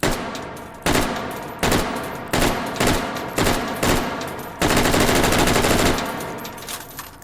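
Mk 12 Special Purpose Rifle gunshots in the VR shooter H3VR ring out as about seven sharp, loud single reports at irregular intervals, each with a decaying tail, the last one followed by a longer ringing echo.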